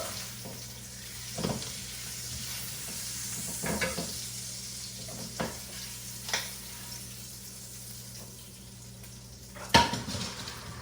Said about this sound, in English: I'm actually going to take this off and add the bacon now to the omelet.